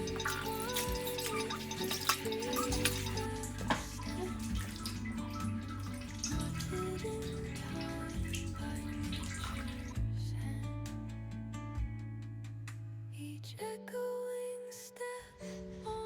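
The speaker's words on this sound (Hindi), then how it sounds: "ये टब वाले पानी से करने के बाद फिर मैं बकेट में अलग से पानी रखी हूँ, उससे कर देती हूँ।" Water is poured from a tub and then a bucket while a small child is bathed, giving continuous splashing and trickling that ends in a few drips, with music playing underneath.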